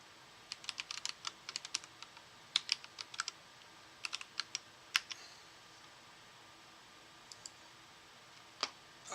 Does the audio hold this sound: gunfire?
no